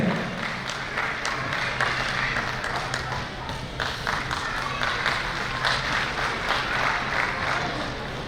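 An audience at a Kutch Meena community gathering applauds steadily, a dense, continuous patter of many hands clapping in a hall, with a faint voice underneath.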